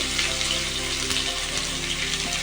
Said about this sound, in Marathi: आपल्याला या कडेमध्ये सर्वात पहिलं हा कांदा टाकून घ्यायचा आहे पूर्णच टाकायचा आहे